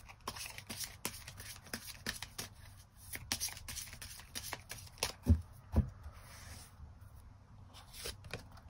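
Tarot cards being shuffled and drawn by hand, a steady run of soft riffling slaps and flicks with a few sharper snaps, close and fairly quiet with no talking.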